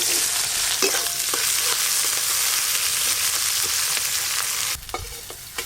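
Chopped onion frying with whole spices for egg curry over a clay stove, a loud continuous sizzle with spoon scrapes and knocks throughout, quieting near the end as stirring continues.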